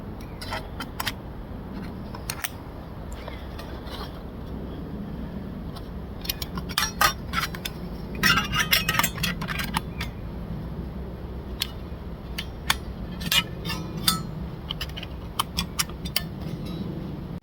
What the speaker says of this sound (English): using those you're going to put your stove together